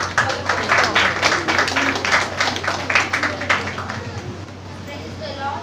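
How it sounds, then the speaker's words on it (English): An audience claps for students at a church Vacation Bible School program, a dense round of applause that holds steady for several seconds before gradually thinning out. "So give them a round of applause"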